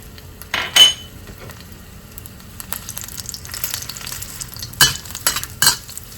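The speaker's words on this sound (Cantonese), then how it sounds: "先炒啲豬肉先，放啲薑片、蒜子、蒜頭" Pork with ginger slices and garlic is stir-fried in a wok, with sharp metal spatula scrapes and clanks against the pan over a low sizzle, coming in irregular bursts close by.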